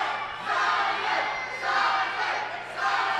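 A D1W wrestling arena crowd chants and cheers for Simon Sezz in rhythmic swelling waves, a loud massed roar that rises and falls about once a second.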